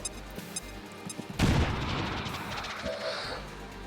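Gunfire in the XCOM 2 video game: a few light pops, then a sudden loud burst of shots and booms that rumbles and fades into a lingering wash of noise.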